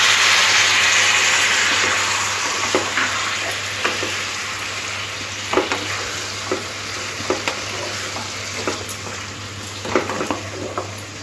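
Baby potatoes fry with spices in a pan, giving a loud, continuous sizzle broken by repeated scraping and clattering stirs that come in irregular bursts, close up and with no talking.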